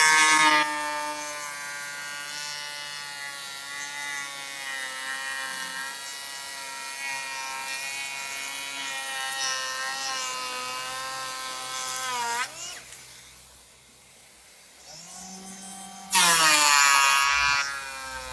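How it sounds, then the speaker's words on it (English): A Makita electric hand planer runs across wood in a long, loud, steady high-pitched whine, dips briefly between passes, then surges again. "So this plane is very effective at doing it very easily and taking off quite a bit"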